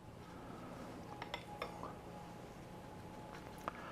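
A spoon digs cheese spread out of its container, making a few light clinks and soft scrapes against a quiet background.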